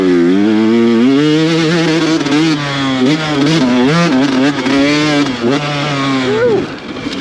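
A dirt bike engine roars loud and close while being ridden, its pitch climbing and dipping with throttle changes through the whole stretch.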